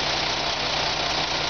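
A fire truck engine idles at a water fill site during a rural water supply drill in Prospect, Maine, a steady loud rumble with broad noisy roar and no breaks.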